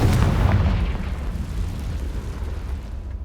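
The Confringo spell explodes in Hogwarts Legacy, a single loud, deep blast that rumbles and slowly fades.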